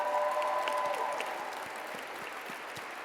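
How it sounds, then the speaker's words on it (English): Audience at a London gala applauding, a steady wash of clapping from a crowd, moderately loud and sustained with a brief tonal ring at the start. "Can we give them a round of applause?"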